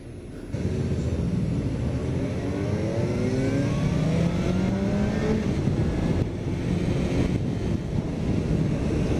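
A 2015 Suzuki GSX-S750 motorcycle engine pulls hard into higher revs, its pitch climbing steadily through the gears over wind rush, loud and close throughout.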